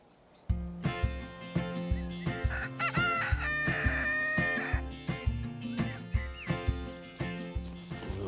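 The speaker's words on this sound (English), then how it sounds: "Come on, show me your chickens." Several roosters crow repeatedly amid steady clucking from a flock of chickens in a hutch, close and loud, with calls overlapping throughout.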